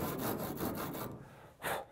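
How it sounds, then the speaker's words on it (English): A hand saw is worked like a rasp on wood, cutting down into a slot while building a 23-foot V-bottom skiff keelson, giving quick rhythmic rasping strokes, then a pause and one more stroke. "Right now I'm kind of using the saw like a rasp, really."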